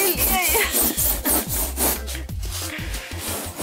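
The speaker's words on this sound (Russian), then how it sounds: "Пилите, Шура. Веселее, веселее." Hand saw cutting through floor insulation boards, a steady rhythmic back-and-forth rasp of repeated strokes, close and loud, with no voices.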